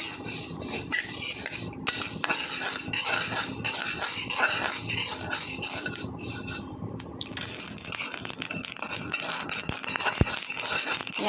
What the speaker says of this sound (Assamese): আৱাজ শুনিছে ক্ৰেকল আহিব ধৰিছে সৰিয়হখিনি বাছ হৈ গ'ল